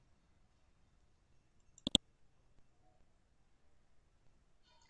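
A computer mouse gives a quick double click, crisp and close against near silence.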